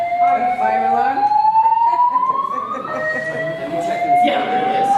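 A loud electronic fire alarm tone sweeps steadily upward and repeats at a conference, with a harsh buzzing layer, sounding continuously and close.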